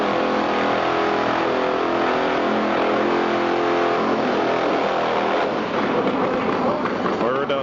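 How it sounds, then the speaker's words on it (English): A Harley drag bike roars through a burnout at a 1995 AHDRA all-Harley drag race at Kil Kare Dragway in Ohio, a loud sustained engine howl and tire scream, with an announcer talking over it throughout. "Furr does his burnout and inches up toward the starting line"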